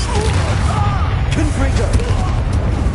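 Blasting-curse explosions from a Harry Potter video game burst through a dense, busy mix of spell effects and background sound, with speech-like voices in the scene.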